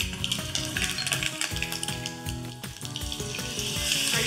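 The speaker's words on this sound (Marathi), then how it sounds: "तर आपण याला फोडणी करूया." Tempering of mustard seeds, cumin, curry leaves, asafoetida and turmeric crackles steadily in hot oil in a home kitchen, close and fairly loud, with a continuous spattering sizzle and a few sharper pops throughout.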